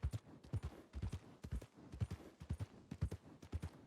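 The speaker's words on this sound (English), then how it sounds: "There's a lot of horses." Several horses clip-clopping on a path in Red Dead, a steady overlapping rhythm of hoof beats, fairly near and moderately loud, with no talking.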